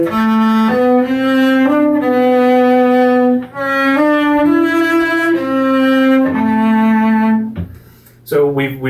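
A cello plays a legato run of bowed notes from Bréval's Sonata in C, measures 66 to 70, close and full, with a brief break and a short noise at the end.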